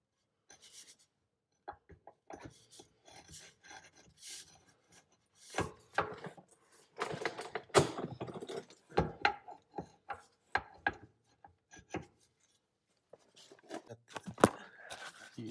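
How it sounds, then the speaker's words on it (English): A drive shaft being fitted into a Nissan 240SX S13 convertible, heard as scattered scraping, clunking and metallic rubbing noises at close range, faint and intermittent with quiet gaps between. "I'm gonna get the drive shaft in now. Should slide in pretty easily."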